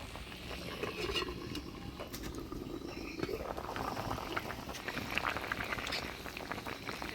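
A Bengali banana flower kofta curry simmers under a lid, giving a soft, steady bubbling with faint patters and small clicks, quiet and close, with no talk.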